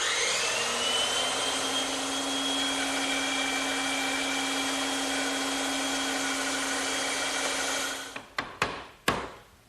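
A bandsaw cutting a piece of wood for a chest-on-chest cabinet, running in one long steady whine with a low hum, then winding down with a few knocks and clunks.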